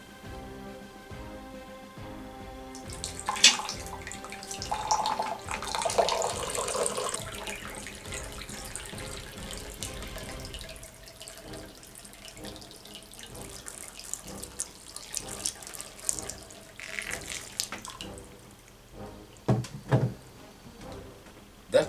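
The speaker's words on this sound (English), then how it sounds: "Habyarimana would always get hold of some water and pour it in a glass" Water is poured into a drinking glass at a table, a splashy pour over a few seconds near the start, followed by lighter trickles, clinks and handling sounds, with a voice talking through much of the scene.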